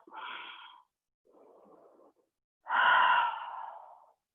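Slow yoga breaths during a hatha flow class: a drawn-out exhale, a softer quieter inhale, then a longer, louder sighing exhale, close and alone with no talking.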